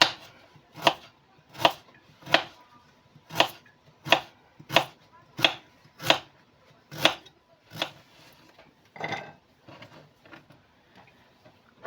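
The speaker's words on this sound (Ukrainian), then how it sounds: "Морку буду нарізати кільцями." A carrot is cut into rings on a board, with about a dozen crisp, evenly spaced knife chops landing close and clear over a quiet background. The strokes slow and grow softer near the end.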